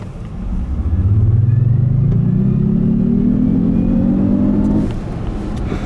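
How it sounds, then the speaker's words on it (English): Synthetic engine sound from a 2018 Jaguar I-Pace First Edition electric car during a 0-62mph launch, a loud, steadily rising drone like a revving V6 that climbs in pitch for several seconds and then eases off. "So that's a digital sound generator. So it's effectively replicating a combustion engine coming into the cockpit."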